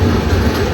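The Sanghamitra Express rumbles at a platform at Nellore station, a steady, loud, close low roar of the train with no speech over it.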